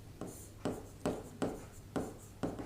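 Pen or chalk strokes of someone writing out a definition during a Hindi grammar lesson: six distinct scratchy strokes in a steady, evenly spaced rhythm, close and fairly quiet with no talking.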